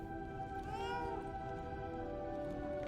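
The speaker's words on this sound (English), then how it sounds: "Oh, kitty cat." A cat meows, one drawn-out, rising and falling meow with clear tonal harmonics, faint and near, over quiet background noise in the video game Lies of P.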